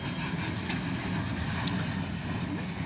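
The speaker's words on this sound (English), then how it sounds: "this is the grain hopper train" A grain hopper freight train passes through a freight yard in a loud, continuous rumble of rolling wagons with faint rail clatter, close by and with no voices.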